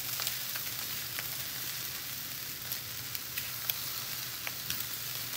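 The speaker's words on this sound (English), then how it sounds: "we're just going to stir this up, get that butter mixed around through the whole dish" Cauliflower fried rice sizzles and crackles in a hot pan as butter is stirred through it, a steady close frying hiss with occasional soft scrapes and pops, no talking.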